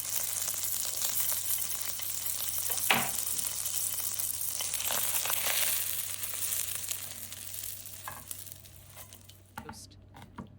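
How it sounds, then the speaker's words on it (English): Bread slices toasting in a pan, a steady broadband sizzle of frying with occasional soft scrapes and crinkles, close and even, fading slightly toward the end with no talk. "Toast the bread slices on both sides until golden brown."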